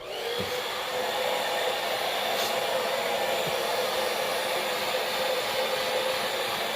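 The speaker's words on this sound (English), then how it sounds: "I'm going to dry them quickly with my blow dryer" A hair dryer on warm setting runs steadily with a constant airy whoosh and motor hum, close and unchanging throughout.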